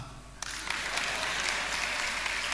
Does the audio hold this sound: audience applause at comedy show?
yes